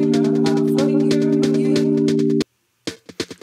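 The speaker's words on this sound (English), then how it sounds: "So this snare sound is a mixture of an 808 snare and a realistic snare sample." A layered snare built from an 808 snare and a realistic snare sample cracks in a steady rhythm over a sustained electronic music bed, loud and close, then a few isolated snare hits sound alone after a short silence.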